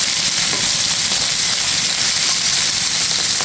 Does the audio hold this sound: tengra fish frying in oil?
yes